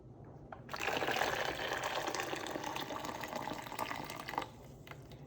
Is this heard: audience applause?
no